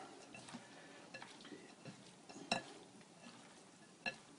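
Raw fish being stirred with salt, lemon and chili salt in a bowl, giving soft scraping and mixing sounds at low level, with a couple of sharper clinks of a utensil against the dish.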